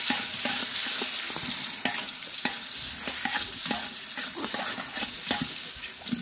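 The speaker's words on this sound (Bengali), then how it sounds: "চালটা দিয়ে দিচ্ছি ঘি এবং সাদা তেলের ভিতর।" Gobindobhog rice frying in ghee and white oil for chicken biryani crackles and sizzles up close, with repeated scraping strokes of a spoon stirring the grains in the pan in an uneven rhythm, and no talking.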